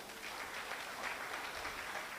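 Faint, distant clapping rises from the audience at an agricultural research annual review and planning workshop after a proposal presentation, a soft, even patter with no speech over it.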